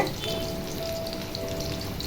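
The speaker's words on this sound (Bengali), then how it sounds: "এই দেখুন আমার চিলি চিকেনগুলো ভাজা হচ্ছে" Chilli chicken pieces fry in oil with an even, close sizzle and a soft crackle that holds steady for a couple of seconds.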